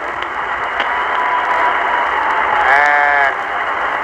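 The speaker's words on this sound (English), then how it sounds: "he's getting a standing ovation from the crowd" A basketball crowd at a Boston Celtics game gives a standing ovation: a dense, continuous roar of clapping and cheering that swells briefly, with a slightly muffled, broadcast quality.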